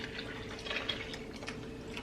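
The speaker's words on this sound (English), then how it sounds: "I'm just going to mix in my evaporated milk." Evaporated milk is poured into pumpkin spice cake batter, giving a quiet, close liquid trickle with soft dripping and splashing details that run steadily for about two seconds.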